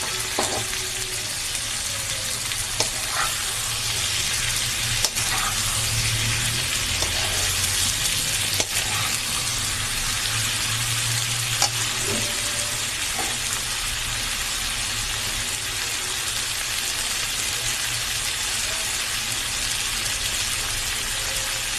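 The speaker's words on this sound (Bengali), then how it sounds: "এর মধ্যে আমি ঢেলে দিচ্ছি শাকটা।" Water spinach greens fried with shrimp in a hot pan, a loud, steady, close sizzle that runs unbroken throughout, with faint stirring clicks and no talking.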